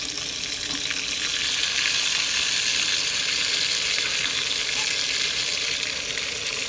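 Steak sizzles in a small steel frying pan over a green-bottle propane heater while winter camping in minus ten degrees, a steady close hiss of frying that runs unbroken with no talking.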